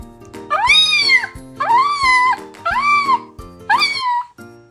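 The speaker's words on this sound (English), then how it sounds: "Kittens call for their mother." Kittens meow four times in a row, each cry a loud, close, rising-and-falling wail with short pauses between, calling for their mother.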